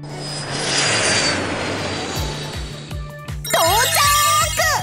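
A cartoon police airplane in a children's animated show drones steadily as it flies, then eases in to land, with rhythmic low thumps and bright chiming, ringing tones layered over the engine.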